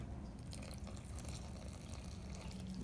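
Hot water is poured slowly into the middle of a homemade playdough mixture of wet and dry ingredients, a steady, soft liquid trickle and splash that continues throughout, with no talk.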